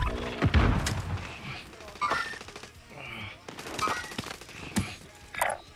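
Gunfire in Call of Duty Warzone Plunder mode, bursts of automatic fire and sharp shots with booming impacts scattered throughout, some close and loud, others more distant, mixed with game sounds.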